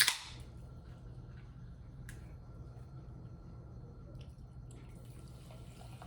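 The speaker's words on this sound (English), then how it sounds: "one of my favorite sounds when it comes to food is cracking open a can of Coke" A can of Coca-Cola cracked open up close: a sharp snap right at the start, then a low, steady fizzing hiss that carries on alone for several seconds.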